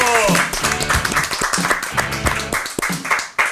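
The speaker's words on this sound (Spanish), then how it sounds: "Aplausos para Dental Clinics." Applause from an audience at a dental clinic promotional event, clapping and cheering mixed with loud background music and shouting voices, dense and continuous.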